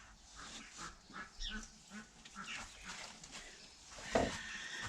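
Ducks quacking near a nest of newly hatched ducklings, several soft overlapping calls in an irregular rhythm, fairly faint and close, with one sharper call near the end.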